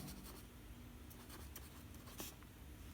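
A pen scratches across paper in short, soft strokes as a temperature figure is written out during a maths lesson, close and faint with no talk over it.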